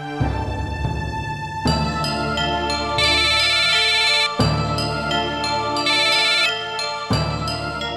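A phone ringtone plays a repeating electronic melody in bursts, loud and clear, with no talking.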